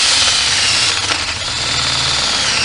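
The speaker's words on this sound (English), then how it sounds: "I'm just going to try to drill some few holes" A power drill bores holes into a deer skull for a European mount, grinding loud and close with a continuous rough whine and slight shifts in pitch as the bit bites.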